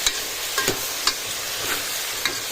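Onions frying in a pan for a Goan mushroom curry, with a steady soft sizzle and several light, separate clicks and scrapes of a spoon stirring.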